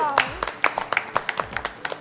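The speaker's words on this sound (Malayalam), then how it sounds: "എന്നിട്ട് കയ്യടി കൊടുക്കാം" Clapping hands from a small group on an Onam celebrity kitchen show, a quick scattered run of close claps mixed with voices and excited talk.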